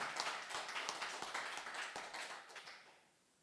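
A church congregation at a Sunday worship service claps hands, a fairly quiet, moderately dense patter with a few sharper individual claps that tapers off and fades to near silence at the end.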